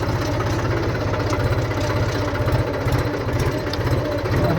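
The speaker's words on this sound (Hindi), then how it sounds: "ट्रैक्टर महिंद्रा" A Mahindra tractor engine runs close by with a loud, steady, rapid thumping chug that holds an even rhythm throughout.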